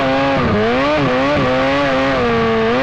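A Yamaha MT-07 motorcycle fitted with a Scorpion full-line exhaust revs loudly and close by, its deep engine note rising and dipping in several quick throttle blips over a steady drone.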